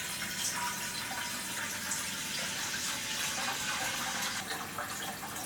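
Cold tap water pours steadily into a plastic homebrew fermenter being filled to 23 litres, a continuous hissing rush at low volume with no talk over it.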